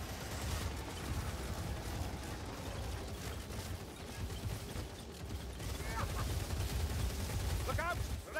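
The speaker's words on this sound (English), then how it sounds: "Look out! Rattling gun!" Rapid sustained gunfire from a ratling gun in the Vermintide video game, a dense continuous rattling barrage with voices shouting over it.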